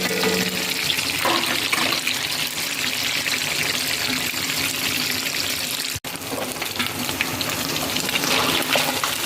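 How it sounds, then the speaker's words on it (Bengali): Lucha fish frying in a pan, a dense, continuous loud sizzle and crackle that stays steady throughout, close up, with one brief cut in the middle. "লুচা মাছ ফ্রাই করা হচ্ছে।"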